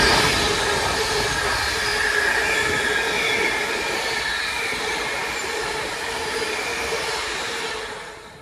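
A train pulls out of a station and rolls away along the track, a steady loud rumble with wheel squeal that holds throughout and slowly eases off near the end.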